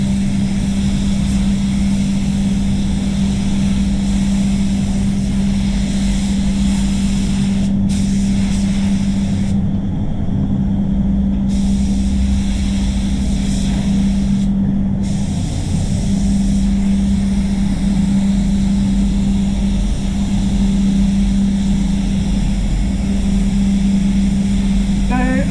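A spray gun hisses steadily while laying wet on wet primer onto a VW Golf in a spray booth, a continuous airy roar with a constant hum underneath, briefly cutting out a few times, with some talk over it.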